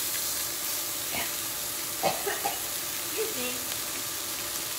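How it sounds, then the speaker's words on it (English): Sea bass steaks sizzle steadily on a hot grill with a constant crackling hiss, a few clinks and a brief spoken phrase over it. "Listen to that sizzle."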